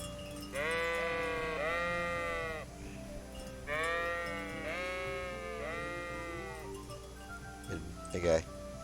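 Sheep bleating in a village pen in the video game Kingdom Come: Deliverance, several long wavering bleats in two clusters, fairly clear and close, followed by a short sharper animal call, with someone talking over parts of it.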